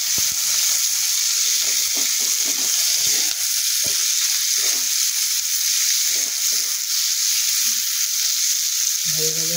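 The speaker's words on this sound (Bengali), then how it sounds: "দিয়ে একটু ভাজা ভাজা করব" Chopped onion and slit chillies fry in a pan with dried red chillies and nigella seeds. The steady close sizzle runs throughout, with scattered stirring scrapes and taps and a brief clink near the end.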